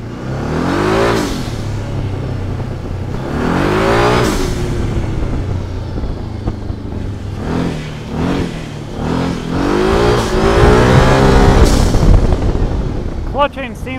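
A Can-Am Maverick side-by-side with an Aerocharger turbo on five pounds of boost accelerates in repeated surges, engine pitch sweeping upward several times, loud and close over wind noise during a test ride.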